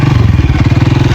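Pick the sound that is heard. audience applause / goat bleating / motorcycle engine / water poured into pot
motorcycle engine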